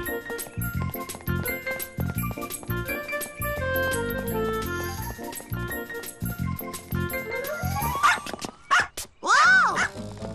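A cartoon dog gives a few quick high yips and barks near the end, after a stretch of bouncy background music with jingling tones.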